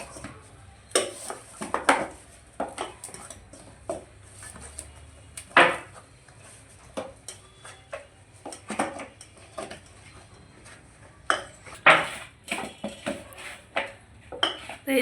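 Rice flour dough for halwa is stirred and mixed in a pan, with irregular clanks and scrapes of a utensil against metal and occasional faint sounds in the background.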